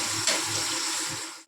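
Water poured into a pot of cooking mung dal daliya, a brief loud splashing gush that tapers off as the pour ends.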